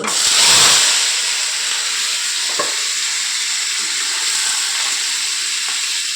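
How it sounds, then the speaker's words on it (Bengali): Nigella seeds hit hot oil in a pan, a loud burst of sizzling at first that settles into a steady close hiss with a faint clink midway. "কালো জিরা ফোড়ন দিলাম"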